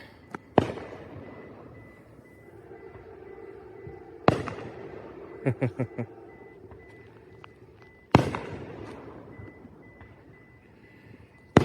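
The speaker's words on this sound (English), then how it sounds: "Somebody's doing fireworks." Three sharp fireworks booms spaced several seconds apart, each trailing off in a long rumbling echo, with a quick cluster of smaller pops between the first two; outdoors and distant.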